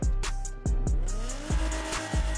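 A Toyota Supra in Grand Theft Auto V revs hard through several sharp rising engine blips and gear shifts, loud and close, with no voices.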